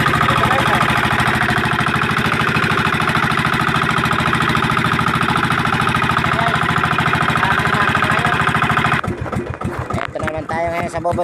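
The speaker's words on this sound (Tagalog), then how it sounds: "Ito din si motor siya. Diesel." A diesel engine on a fishing boat drones loudly and steadily with a continuous rhythmic chug, then the tone shifts abruptly near the end as the load changes.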